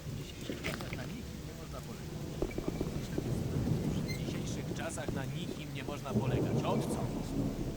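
Rain and rolling thunder fill the Gothic video game, a steady low rumble and hiss under a person talking throughout.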